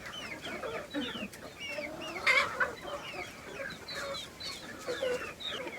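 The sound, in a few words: hens clucking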